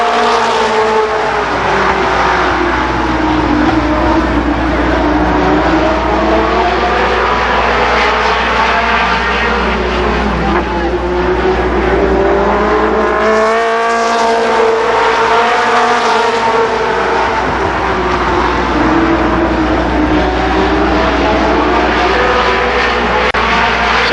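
Race cars roar around Columbus Motor Speedway during a 1992 Memorial Day race, loud engines droning and rising and falling in pitch as cars sweep past, with a brief dip before the pack surges by again.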